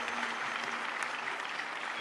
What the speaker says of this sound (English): the participating country winners should continuously applaud the participants over here